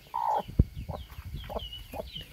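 A grey Vietnamese fighting-breed hen clucks close by in a farmyard with a brooding nest, giving several short, soft clucks spaced apart.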